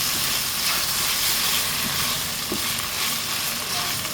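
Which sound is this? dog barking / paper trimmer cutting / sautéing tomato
sautéing tomato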